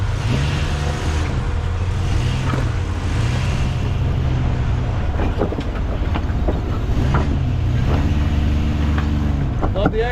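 A Jeep Cherokee XJ off-roading in the Black Hills: a loud, close engine roar runs throughout, with revs repeatedly climbing and dropping in surges over a constant heavy drone.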